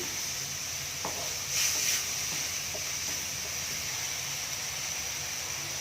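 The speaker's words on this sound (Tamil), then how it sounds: "தக்காளி பச்சை வாசம் நல்லா போகிற வரையும் நல்லா வேகட்டும்படி கிளறி விட்டு கொண்டே இருக்கணும் அடிக்கடி" Onion and tomato frying in oil in a pan while being stirred, a soft steady sizzle and hiss with faint scraping of the spoon, no talk.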